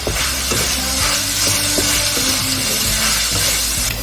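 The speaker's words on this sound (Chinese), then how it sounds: "热锅凉油，下肉片， 炒到变色以后，把大料下进来。" Meat slices stir-frying in a hot wok with Sichuan peppercorns, star anise and dried chilies, a steady loud sizzle broken by repeated scraping and clacks of a spatula, close up and with no voices.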